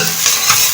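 Wilted onions fry in a pan for a meat kabsa, with a close, loud sizzle and a brief scrape of stirring, with no talk.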